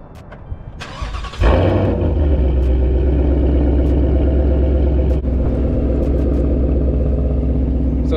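A 2021 Ford Mustang GT cranks briefly, fires with a loud roar, then settles into a deep, steady, rumbling idle heard close up.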